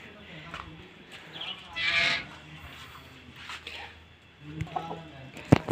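Young aseel hens cluck at a village farm house with a mini zoo, producing scattered short calls and one brighter squawk, fairly faint and mixed with someone talking nearby.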